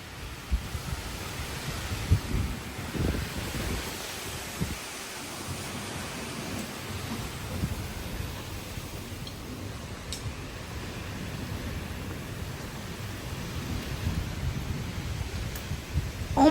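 A severe thunderstorm pours steady rain while low thunder rumbles, with a stronger roll early on. Wind-blown noise stays constant and fairly loud throughout.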